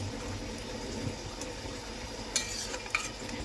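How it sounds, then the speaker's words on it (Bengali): Quiet, continuous sizzle and bubbling of cabbage curry in a pan with a little water, broken by a few soft scrapes of stirring. "একটু জল দিতে হবে, একটু নড়াতে হবে।"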